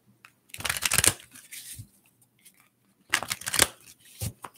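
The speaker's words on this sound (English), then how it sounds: "Let me pull 3 more cards and see." Tarot cards pulled from a deck in two bursts of close, papery shuffling and sliding, separated by near silence, with a short final flick.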